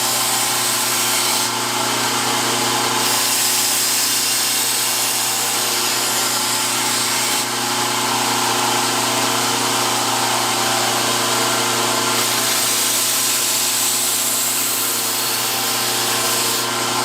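A power buffer polishes a restored WWII KA-BAR fighting knife, a steady loud whirring grind that runs continuously throughout with slight shifts in pitch and no speech.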